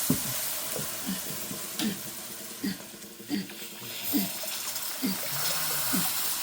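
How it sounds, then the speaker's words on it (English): Milk poured quickly into a hot gravy roux for Kentucky-style brown gravy, hissing and sizzling steadily, with repeated scraping stirs of a utensil through the pan, close and alone. "there's now time to add the milk, and when you add the milk, you add it really quickly"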